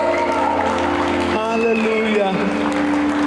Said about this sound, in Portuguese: Vamos dar uma salva de palmas para aquele que merece toda a honra e toda a glória, que é Cristo Jesus.